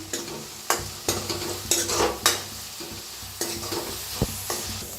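Onion frying with curry leaves and green chillies, a close crackling sizzle under frequent loud scrapes and knocks of a ladle stirring the pan in uneven bursts.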